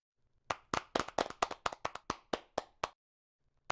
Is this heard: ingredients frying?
no